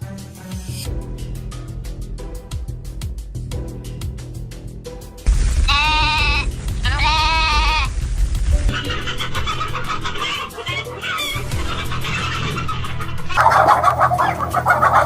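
On a livestock farm, sheep let out loud, repeated bleats close by while chickens cluck and squawk in the background throughout.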